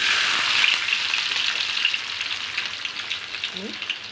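Garlic sizzles in hot oil for a village-style dill greens dish, a steady bright crackle throughout with a short low voice-like blip near the end.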